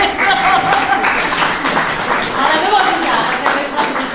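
An audience applauds at an Italian novel presentation for Anguana Edizioni, a close, steady patter of many hands clapping for about four seconds, with voices and a chuckle mixed in.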